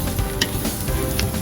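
Flour and onion sizzle together in a single pan while being stirred aboard a boat, a steady close frying hiss with a couple of light scrapes.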